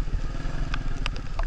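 A motorbike engine runs steadily after being restarted on a rainy Karachi street, a continuous close rumble with a few faint clicks and clatters over it.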